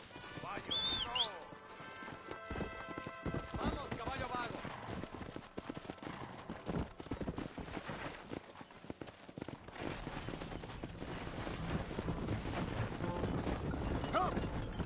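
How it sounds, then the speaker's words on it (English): Horse hooves clip-clopping in a video game, the steady hoofbeats heard under game music and a voice speaking Spanish, with busy background sound throughout. "You can take your horse or ride on the wagon."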